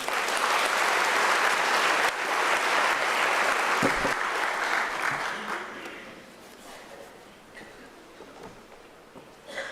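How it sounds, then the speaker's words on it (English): Audience applause at a UNISA autumn graduation ceremony, a loud dense wash of clapping from a large crowd that gradually thins and fades toward the end. "may we give her a round of applause again?"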